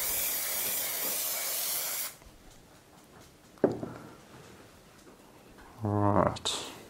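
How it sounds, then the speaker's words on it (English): A steady aerosol varnish spray hisses loudly for about two seconds, then stops, followed by a few quiet handling clicks and rustles. "You can also spray in the opposite direction."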